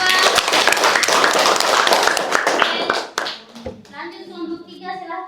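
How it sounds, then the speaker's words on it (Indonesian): Classroom applause for a presenting student group, a burst of many hands clapping for about three seconds, then children's voices and music-like tones as it fades. "Berikan aplaus untuk kelompok 2."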